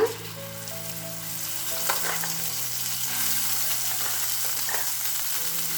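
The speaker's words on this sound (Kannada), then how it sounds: "ಇವಾಗ ಇದ್ರ ಒಳಗಡೆ ನಾವು ಮಾಡ್ಕೊಂಡು ಇಟ್ಕೊಂಡಿದ್ವಲ್ಲ ಪೇಸ್ಟನ್ನು ಅದನ್ನು ಹಾಕೊಳ್ಳೋಣ" Spice paste sizzling and frying in a spoonful of hot oil in a pan, a steady bright crackle that builds after a few stirring scrapes and continues evenly near the microphone with no talking.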